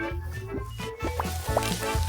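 Cut potatoes fry in hot oil with a constant, close sizzle, overlaid by faint tonal sounds.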